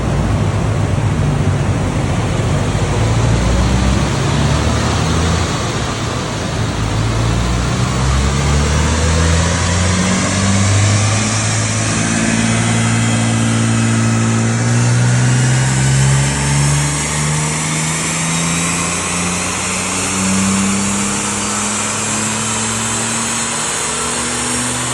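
A Jaguar engine running on a dyno with a commercially available exhaust, roaring loudly and steadily as revs climb in a long continuous pull, with rising tones and no talk.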